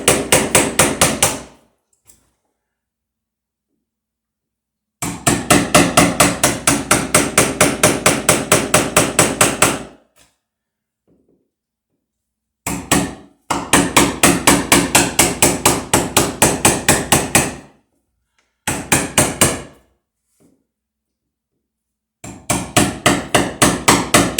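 Rapid hammer blows driving fasteners while surface wiring for a light switch and outlet is installed, loud and close, in long rhythmic bursts separated by silent pauses, with no talk.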